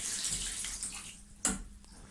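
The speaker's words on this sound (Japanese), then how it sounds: "はい、シャワーもお湯が出ている。" Hot water from a newly installed boiler runs through a shower, a steady broadband hiss with a brief louder splash burst midway, close and without talk.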